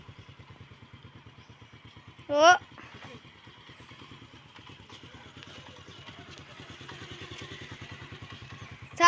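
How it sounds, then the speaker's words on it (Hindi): Motorcycle engine idles steadily with a rhythmic putter throughout, close by, while a voice exclaims briefly. "ये देखें खुद बाइक चल रही है।"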